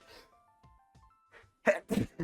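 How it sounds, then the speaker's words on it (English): A sneeze bursts out in three close, loud blasts near the end, after a stretch of quiet with faint tones and soft noises. "I had a sneeze, sorry"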